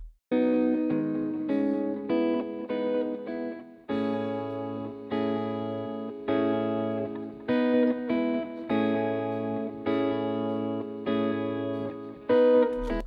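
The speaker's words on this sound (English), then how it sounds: "So this was the sound of the guitars before I started." Guitars strum sustained chords in a steady sequence, raw and unpolished, each chord ringing out before the next change.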